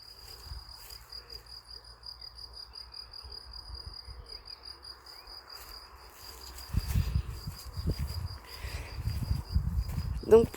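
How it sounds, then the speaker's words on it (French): Crickets chirp steadily in a garden, a thin continuous pulsing trill at moderate distance, while low rustling and handling noise close by grows louder toward the end. "Je ne sais pas si vous entendez les oiseaux, les grillons, les grenouilles."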